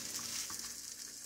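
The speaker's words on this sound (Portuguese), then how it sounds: "Eu vou fritar todas elas e venho mostrando pra vocês" Rice crepes fry in a pan with a steady, faint sizzle and soft crackle throughout, continuous and without speech.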